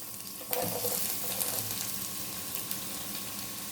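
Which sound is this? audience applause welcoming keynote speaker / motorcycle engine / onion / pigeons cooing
onion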